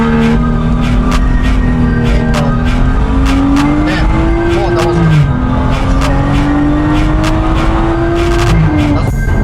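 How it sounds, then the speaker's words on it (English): A Kia Stinger pulls hard in second gear while building turbo boost, its engine drone loud and close and climbing steadily in pitch, with a brief dip and recovery midway and rapid clicking chatter over the top. "try second gear. Try to build as much boost as possible."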